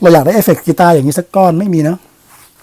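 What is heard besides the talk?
No everyday noise stands out behind the speech.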